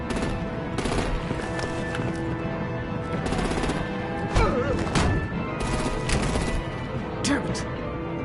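Rapid bursts of gunfire and artillery blasts from a Batman Telltale video game combat scene, sharp repeated cracks and thuds in uneven volleys over a dense, busy battle background.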